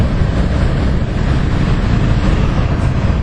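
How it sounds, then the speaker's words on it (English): Raw, unenclosed air compressors with mufflers run at a construction site, producing a loud, steady, unbroken roar with no pauses. "So these are just raw compressors. They have mufflers, but there's one running right there."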